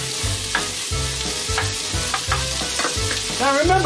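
Chicken frying in a pot while being stirred and mixed, a loud constant sizzle broken by rhythmic scraping strokes of the utensil, close up with no talking.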